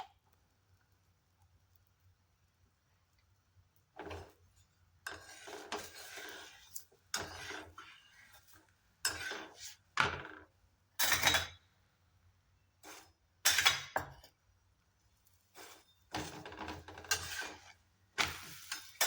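A paratha roasting on a pan, pressed and turned with a spatula: bursts of dry rasping and scraping come and go, with quiet gaps in between, close and moderately loud, no talk.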